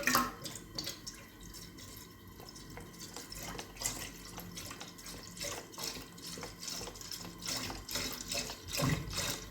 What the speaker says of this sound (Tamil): பால் ஒரு 1/2 லிட்டர் ஊற்றிக்கலாம்.